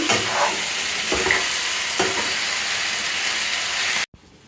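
Chicken curry is stirred in a hot pan, with a continuous loud sizzle and hiss and a few scraping strokes of the spoon before the sound cuts off abruptly near the end.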